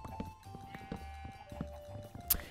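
Sheep bleating in the video game Minecraft, several short blocky calls scattered over gentle game background noise, with a bright sharp blip near the end.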